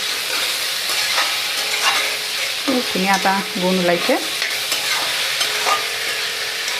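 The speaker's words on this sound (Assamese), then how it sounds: "এইখিনি অলপ সময় মই এনেকৈ ভাজি ল'ম।" Steady sizzling of raw jackfruit frying with spices in a pan, with intermittent scraping and stirring sounds; a brief voice speaks midway.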